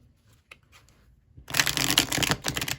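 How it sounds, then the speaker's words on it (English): A few faint taps, then a loud, rapid riffle of tarot cards being shuffled close by, continuous and crisp. "I'm going to shuffle the cards for a little bit."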